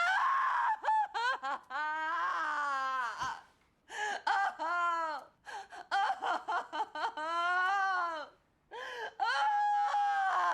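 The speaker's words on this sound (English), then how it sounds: "There is this sequence where she scream cries for, like, 8 minutes." A woman in a film scream-cries at length, with long wailing sobs, gasping inhales and high, wavering moans in loud, uneven bursts broken by brief silences.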